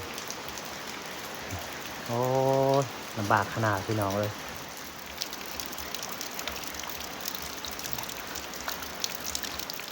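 Light rain patters steadily and softly outdoors, a fine continuous hiss with scattered drops. Someone speaks briefly over it early on.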